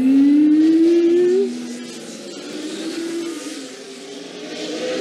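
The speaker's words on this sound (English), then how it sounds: "It's just car noises now?" Race cars and a motorcycle on a track in a 1989 film, a loud rising engine whine sweeping upward for over a second before fading into a steadier, quieter distant drone that swells and dips.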